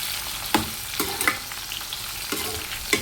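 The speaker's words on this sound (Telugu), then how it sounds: "కరివేపాకు కూడా మొత్తం దీంట్లో వేసేసి ఈ మొత్తం ఫ్రై చేసేద్దాం." Curry leaves and garlic fry in a pan with a steady sizzle, and a few sharp scraping strokes of stirring punctuate the short stretch of cooking, with no speech.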